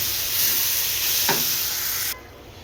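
A bean curry of flat beans with fresh coriander leaves is stirred in a hot pan, giving a loud, steady sizzle broken by one brief scrape of the utensil before the hiss drops away near the end.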